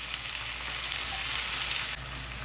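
Canned mackerel hits a hot pan with garlic and ginger, setting off a dense, steady sizzle and crackle up close that drops slightly in loudness near the end, with no talking.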